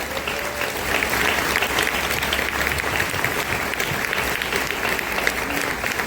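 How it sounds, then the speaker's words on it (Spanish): Big round of applause from the audience at a teachers' union pedagogical congress, dense steady clapping that fills the whole stretch at close range with no speech over it. "darnos un gran aplauso de reconocimiento"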